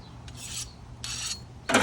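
Dull blade of a new knife drawn across a sharpening stone in three rasping strokes, each a short gritty scrape, the last louder and harsher, close up with no talking.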